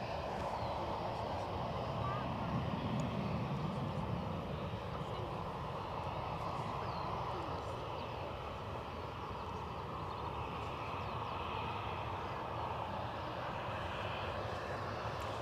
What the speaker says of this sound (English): Inbound, we've got Aer Lingus, an ATR 72 from Dublin.